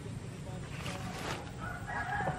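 A rooster crows faintly in an outdoor setting at a fishing spot, the call rising over a steady wash of background noise.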